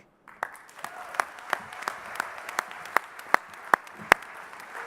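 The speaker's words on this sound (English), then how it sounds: "give them a big round of applause again" A small group at a conference speech claps in a slow, steady rhythm, each clap sharp and distinct, growing a little louder toward the end.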